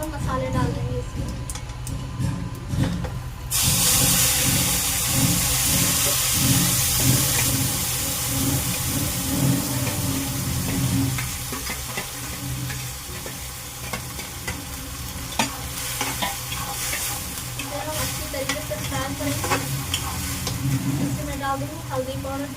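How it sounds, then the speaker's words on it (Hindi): Nigella, carom and mustard seeds crackle in hot frying oil for stuffed bitter gourd, a loud, steady sizzle with popping and stirring scrapes running close throughout. "इसे अच्छे से चटकने दें, उसके बाद हम मसाले डाल देंगे इसमें।"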